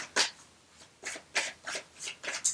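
A Moonology Oracle card deck is shuffled by hand close up in quick, papery riffling bursts, about seven brisk swipes in a few seconds.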